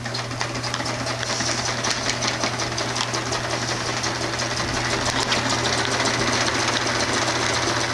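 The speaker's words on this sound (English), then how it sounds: "All right, let's sew." A sewing machine stitching a large, rough fish bag runs continuously in a fast, even mechanical rattle with a steady low hum underneath, close by and uninterrupted, with no talking.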